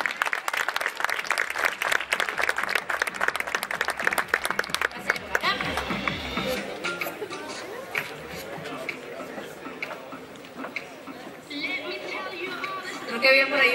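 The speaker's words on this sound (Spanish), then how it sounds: "¡Un fuerte aplauso!" Gala audience at an awards night applauding as presenters come up, a dense burst of clapping mixed with crowd chatter that fades into murmuring voices and talk.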